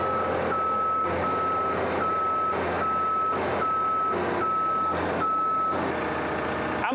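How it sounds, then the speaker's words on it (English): A truck on a farm reverses with a steady, evenly spaced backup beep sounding about every 0.6 seconds over a constant rumbling engine, close and loud throughout. "Greg, keep coming and then drive straight in."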